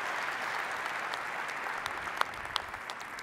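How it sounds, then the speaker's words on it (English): A keynote audience at a tech conference applauds steadily, a dense wash of clapping with a few sharper individual claps standing out near the end, and no speech over it. "How about another round of applause for Pat and Pat?"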